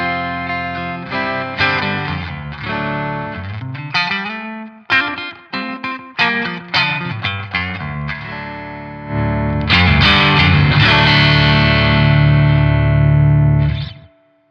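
Electric guitar playing chords and single notes through an overdrive pedal with the guitar volume rolled back to about 5-6, giving a mildly driven tone, then a louder sustained strummed passage near the end.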